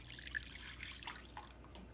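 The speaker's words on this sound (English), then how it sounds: "So I'm adding some more water." Water poured into a pot of simmering curry chicken, a soft, continuous splashing trickle with small drips, close and steady for a couple of seconds with no talk.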